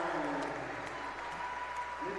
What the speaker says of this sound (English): Callie Gilbert gets a big round of applause